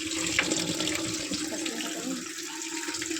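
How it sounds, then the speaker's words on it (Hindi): Water runs steadily into the drum of an IFB TL-701AG1S top-load washing machine during its pre-clean cycle, a continuous close gush like a tap filling a tub, heard alone without talk. "तो अपन सीधा प्री क्लीन दबाएंगे, इसमें देखिए डायरेक्ट पानी आएगा"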